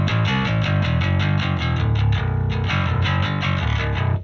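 A gritty, clanky electric bass plays a busy riff through a Marshall amp plugin by Softube, with a bright, slightly distorted tone, steady and loud throughout.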